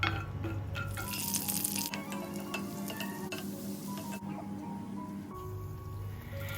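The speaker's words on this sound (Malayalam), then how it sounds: "നെയ്യിൽ നമ്മൾ അണ്ടിപ്പരിപ്പും കിസ്മിസൊക്കെ ഒന്ന് വറുത്തെടുക്കാം" Cashews and raisins frying in ghee, a close, crackling sizzle with scattered pops and stirring scrapes against the pan, continuing steadily throughout.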